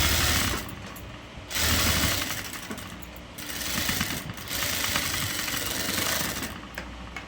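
A sewing machine runs in bursts while stitching fabric for a girl's ruffle frock, its mechanical whirring rising and pausing several times at close range, with no talking.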